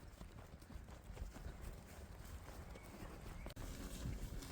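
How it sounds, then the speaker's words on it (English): A couple of groups of cattle being moved on a farm make soft, uneven hoof clatter as they walk, quiet and close, with scattered thuds over a low background. "Let's just move a couple of groups of cattle there now"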